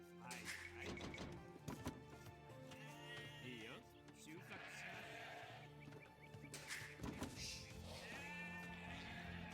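Sheep bleat repeatedly in an Age of Empires–style strategy game match, game sounds layered with a few thwacking hits and a commentator talking over them throughout.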